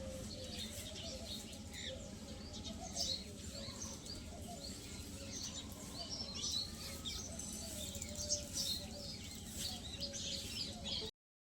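Sparrows chirp in scattered bursts around a Gujarati home, faint and fairly distant over steady household background noise.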